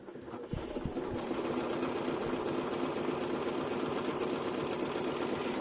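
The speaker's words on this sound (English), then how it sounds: "we'll make another quick satin stitch." Up close, a sewing machine runs a quick satin stitch, holding a dense, steady mechanical whir with fast, even needle tapping after a brief start.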